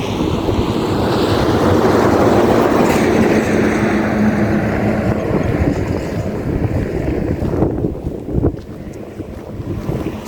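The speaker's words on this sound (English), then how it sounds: "So about 2 trains passing today. One was cargo and one was for travelers." A standard gauge train rumbles past in Tsavo National Park, Kenya, in a steady, loud roar with wind buffeting the microphone, the noise thinning out toward the end.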